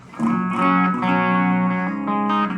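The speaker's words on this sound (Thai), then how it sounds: "ผมจะตั้งเสียงคีนคอรัสนะครับเสียงแรกนะ" Clean electric guitar through a chorus patch on a Korg AX3000G multi-effects unit, a sustained strummed chord shimmering and wavering, played alone and fairly loud.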